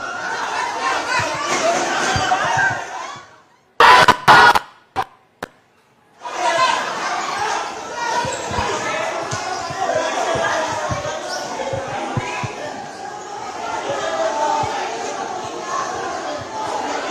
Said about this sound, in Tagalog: Ayun, may naririnig tayong sigawan.